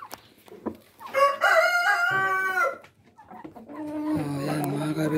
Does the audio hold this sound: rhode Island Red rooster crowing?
yes